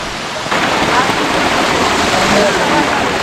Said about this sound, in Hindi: यहाँ देख रहे हो आप, ये पूरा ग्लेशियर है और यहाँ से ये छोटा सा वाटरफॉल।